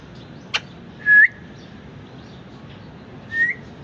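A pet parrot whistles on command indoors. It gives two short rising whistles a couple of seconds apart, with a brief click before the first, in an otherwise quiet room.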